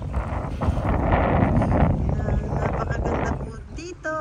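Strong wind buffeting the microphone in a continuous loud rush at Lake Lanier, Georgia, with a person talking over it.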